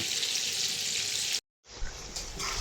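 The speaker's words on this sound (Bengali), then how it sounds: "তো আমি মুরগিটা সুন্দর করে ফ্রাই করে নেবো মাছের মতো ফ্রাই করে নেবো" Chicken frying in hot oil in a home kitchen, a loud steady hiss and sizzle that cuts out abruptly for a moment, then resumes with occasional stirring sounds.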